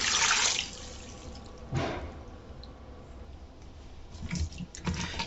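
Water poured into a cooking pot of Nigerian okra soup with a seasoning cube, a short splashing pour at the start and another brief one soon after, then quiet kitchen sounds and small clinks.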